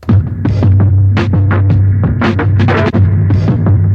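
Loud, gritty electronic drums from a Circuit Rhythm with a heavy filtered low throb, punchy hits in a steady groove, distorted and dense throughout.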